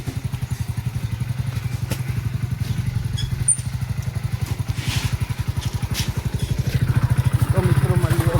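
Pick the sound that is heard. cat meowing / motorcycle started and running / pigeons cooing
motorcycle started and running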